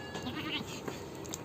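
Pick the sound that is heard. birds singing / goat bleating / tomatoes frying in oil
goat bleating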